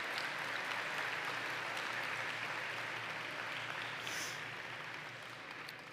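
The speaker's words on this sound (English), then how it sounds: "please give a round of applause to them" A graduation audience at WJ Mouat Secondary's 2023 ceremony applauds in a steady wash of many clapping hands, fairly quiet and gradually tapering off toward the end.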